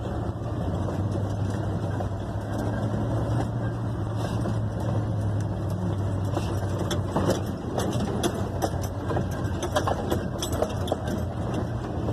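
A 1972 Ford F100 pickup truck with tuning problems drives steadily with engine rumble throughout, and a gear change comes partway through with no clear break in the drone.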